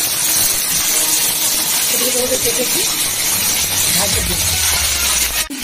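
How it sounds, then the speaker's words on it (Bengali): Cauliflower for a sesame cauliflower dish fries with dried red chillies in hot oil in a wok, giving a loud, steady sizzling hiss close up while a person talks over it. "কড়াইতে তেল দিয়ে দিই। আচ্ছা, শুকনো লঙ্কা দিয়ে দিলাম। হ্যাঁ, আর কপি এটা ভাজে দিয়ে দিলাম।"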